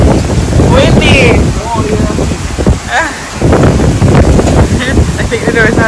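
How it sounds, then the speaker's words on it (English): Strong gusting wind buffets the microphone outdoors near a coffee shop, a steady loud roar throughout with people talking over it. "So windy."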